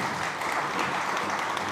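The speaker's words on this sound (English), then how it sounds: "Please give them a round of applause." A conference audience at a SXSW food and soil session breaks into brief applause, a dense, even patter of many hands clapping for a couple of seconds with no talk on top.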